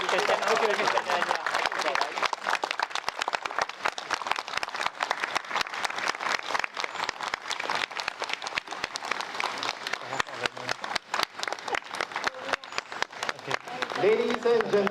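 Wedding guests applaud at a solemnisation ceremony with continuous, brisk clapping from a modest crowd that carries through the whole stretch, with a few voices speaking over it near the start and end.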